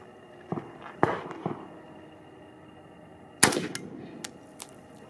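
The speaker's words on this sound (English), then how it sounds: "There's the very first shot." An AK-47 rifle fires a few sharp, loud cracks outdoors, spaced irregularly with a big report about midway, followed by fainter clicks and brief handling noises.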